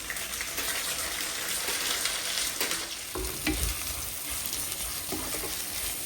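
Onion, green chilli and curry leaves frying in oil for a Chettinad crab curry, a loud steady sizzle filling the whole stretch, broken by occasional stirring scrapes in the pan.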